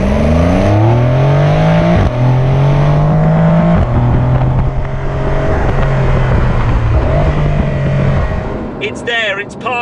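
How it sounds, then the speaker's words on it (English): A Porsche 992 Carrera 2S engine with the optional sports exhaust revs and drones loudly with a throaty exhaust note rising and shifting pitch, fading toward the end. "The exhaust turns on, so this has got the optional sports exhaust fitted."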